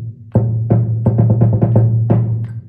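Timpani strikes in an exercise: a measure of sixlet rolls, clusters of rapid resonant hits over a sustained low drum tone, loud and close with no talking.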